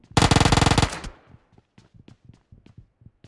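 Rapid automatic gunfire from the mobile battle-royale game PUBG Mobile, one loud sustained burst of about a second, followed by quieter scattered clicks and taps.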